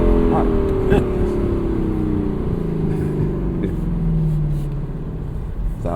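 A 2025 Lexus LC500 convertible's engine revs after a downshift, a loud, close, steady drone with pitch sweeping down then up again, heard from inside the car with the top down.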